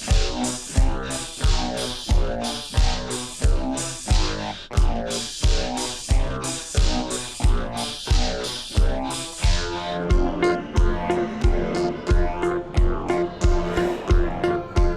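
A full music track plays loud and close, with punchy rhythmic hits and a clavinet moving up and down on root notes, and the texture thickens in the last few seconds.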